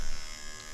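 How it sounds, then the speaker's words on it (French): An electric cactus razor buzzes steadily, a continuous close hum and whine with no talk. "Il suffit de l'activer et il rase toutes les épines."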